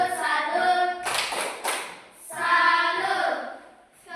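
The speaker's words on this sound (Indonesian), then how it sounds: "tepuk tangan dulu untuk kelompoknya Putri" A class claps for a group in a civics teaching simulation, with short bursts of hand claps around stretches of chanting voices.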